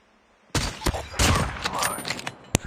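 Bursts of gunfire in Call of Duty, a tank battle game, with sharp shots and a rapid volley ringing out after a brief quiet start, ending in one last crack.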